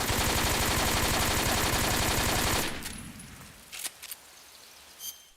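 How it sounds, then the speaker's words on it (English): An AK rifle emptying a full magazine into the air in Metal Gear Solid 3, a loud unbroken automatic burst for about two and a half seconds, then quiet with a few metallic clicks and handling clinks. "fire a full clip into the air"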